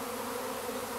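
Honey bees clustering and bearding in a swarm give off a continuous, even buzzing hum, soft and steady throughout a brief moment with no other sounds.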